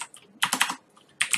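Computer keyboard typing in quick close bursts, a cluster of rapid keystrokes followed after a short pause by another brief flurry of clicks.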